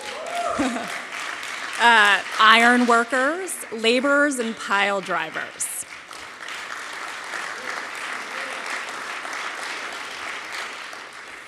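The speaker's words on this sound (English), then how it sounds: "I heard the cement masons, I think, over in this section, so we can start cheering now." Audience cheering and applause for construction-trade graduates of a city training program, rising loudly with whoops and shouts, under a speaker reading out trades, then settling into a steady sustained applause alone.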